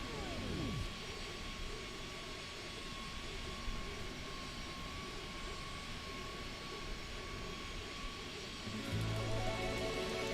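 Boeing 717 airliner engines in Microsoft Flight Simulator 2020 hold a steady, moderate drone with a thin sustained whine, unchanging across the stretch, with a soft tonal shift near the end.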